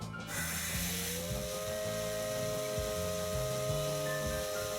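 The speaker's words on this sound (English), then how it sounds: "The steam whistle sounds out in victory." Steam locomotive 8620 in the visual novel Maitetsu lets out a long, steady whistle over a hissing rush of steam and low rhythmic chugging. The whistle starts after a moment and holds loud to the end.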